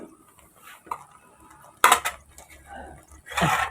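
Vegetables with kaffir lime leaves are stirred in a pot of coconut milk soup, with a few loud clattering scrapes of a utensil against the metal pot amid quieter clinks, and a voice speaks briefly.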